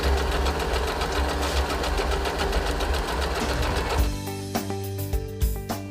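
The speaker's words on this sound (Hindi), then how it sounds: "जब तक आप उस बटन को दबा कर रखेंगे तब तक मशीन उल्टी सिलाई करती रहेगी।" An Usha Dream Stitch sewing machine running steadily in reverse stitch, a dense rapid needle chatter that continues loud and close before stopping abruptly, leaving a few quieter clicks and knocks of the mechanism.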